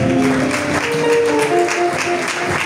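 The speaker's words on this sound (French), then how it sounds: "Acclame très fort pour Jésus-Christ." Church congregation applauding and cheering for Jesus Christ during a service, a steady wash of clapping with tonal music or voices ringing over it throughout.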